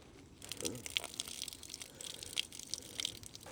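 Water running out of the bottom of a gutter downpipe at a gamekeeper's property, a faint, broadband splashing and trickling with small drip-like ticks, steady and fairly quiet throughout.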